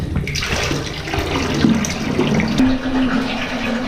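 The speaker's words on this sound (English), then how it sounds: "Yeah, she's filling up with water." Water runs steadily into a fuel tank being filled for pressure testing aboard a boat, a continuous close splashing and gurgling rush with no talk over it.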